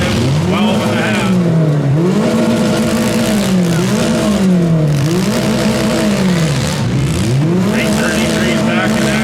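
Demolition derby cars at a mini smash heat in Beeton, Ontario, with engines revving loudly in repeated rising and falling cycles and occasional impacts, while an announcer talks over the constant roar.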